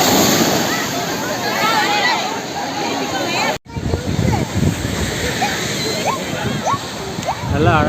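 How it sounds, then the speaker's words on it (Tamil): Ocean waves at a seaside beach by a temple crash and surge in a loud, continuous roar of surf, with a short break midway; people talk over the water. "ஏய் பெரிய அலை வருதுடா."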